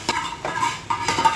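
Spices and masala are stirred together in a pot for chicken mandi: a short burst of a few clinking, scraping strokes of a spoon against the metal, close and fairly loud.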